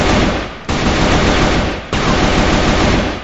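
An AK-47 in a shooting game firing in rapid bursts, loud and dense, with two sharp cuts between sustained streams of fast overlapping shots.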